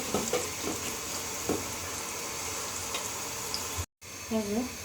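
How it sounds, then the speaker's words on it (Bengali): Chopped onions sizzle in hot oil for khichuri, a steady frying hiss with a few clicks of stirring, briefly cut out near the end before resuming. "তেল দিয়ে দিচ্ছি, এবার পেঁয়াজ কুচি দিয়ে দিলাম। হচ্ছে আমি ভালো করে ভেজে নেব।"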